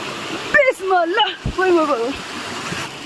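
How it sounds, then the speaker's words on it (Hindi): A stream flows as someone crosses it on foot, a steady rushing wash of water under a voice talking close by. "पहले ये नाला हमने क्रॉस करना है"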